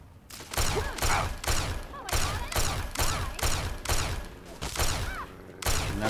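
Gunfire in the video game Fallout 3, a rapid series of about a dozen loud evenly spaced shots with sharp cracks and ringing tails, close and continuous.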